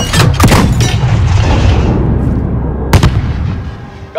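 Heavy explosions in the Call of Duty Modern Warfare video game, a deep booming blast with a rolling rumble, a second sharp blast near the end, loud and close.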